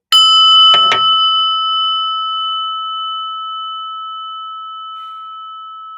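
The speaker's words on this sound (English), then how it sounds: "listen to the prayer bell" A single prayer bell is struck, a couple of quick taps, then one clear ringing tone sustains and slowly fades over several seconds in quiet surroundings.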